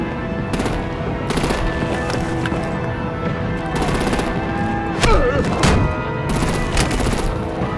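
Gunfire and artillery in a Batman video game battle: sustained loud bursts of automatic fire with sharp cracks and a heavy impact partway through, over a constant rumbling background.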